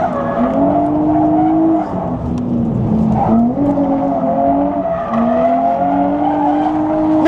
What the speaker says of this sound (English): Let's try this handbrake one more time.